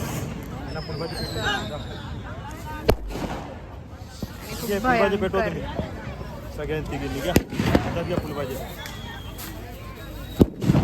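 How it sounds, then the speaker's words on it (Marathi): Diwali firecrackers burst in sharp, loud cracks at irregular intervals over a noisy crowd with people talking and shouting nearby. "गाईज हे बघा इथे सगळे फटाके फोडत आहेत"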